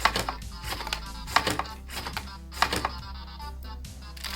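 A LEGO Mindstorms boba barista machine dispenses boba pearls with rapid mechanical clicking and clacking, in repeated bursts like typing, moderately close.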